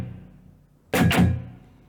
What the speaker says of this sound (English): So what we're doing is we're just muting the strings,